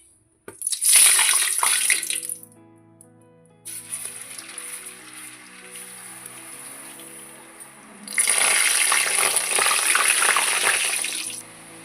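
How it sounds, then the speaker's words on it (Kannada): Chakli dough dropped into hot oil for North Karnataka-style crispy chakli, with two strong bursts of hissing sizzle and a quieter bubbling fry between them, close up with no talk. "ನೋಡಿರಿ ಎಣ್ಣೆನ ಕಾದೈತಿ. ಈಗ ಚಕ್ಲಿ ಬಿಡ್ತೀನಿ ನಾನು."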